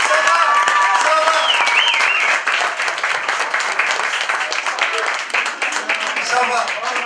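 Loud, dense applause from a crowd at a karaoke party welcoming a performer, with cheering and shouting voices mixed in, sustained throughout at close range.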